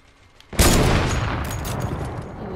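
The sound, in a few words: gunfire shooting down a wall in a video game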